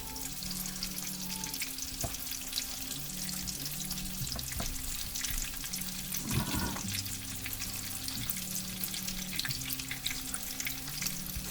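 Chicken cordon bleu browns in a good-sized skillet, giving a steady, close frying hiss throughout with a few brief clinks and stirring noises, and nobody speaks.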